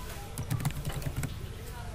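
Soft clicks of typing on a computer keyboard, a short run of quiet keystrokes in the middle while someone speaks over a low background hum.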